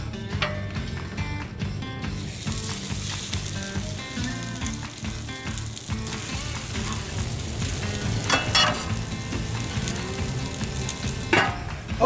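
Chicken cutlets frying in hot safflower oil on a griddle, a steady close sizzle with some scraping and clicking from handling, no talking.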